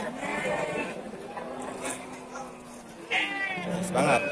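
Texel-crossbred sheep, pregnant ewes at a Bumiayu livestock market, bleat repeatedly and close by, with a louder wavering cry near the end, over steady crowd chatter and people talking.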